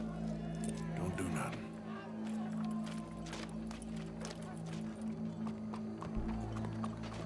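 Horse hooves clip-clop steadily on the ground in the video game Red Dead Redemption 2, a continuous rhythmic trotting beat under a low ambient drone and crowd murmur, with no talking.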